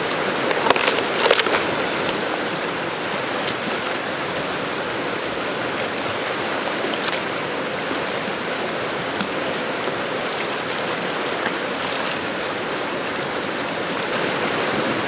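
Gold pan being washed in a Rocky Mountain stream, with steady rushing water and sloshing throughout, close and fairly loud, with no talking.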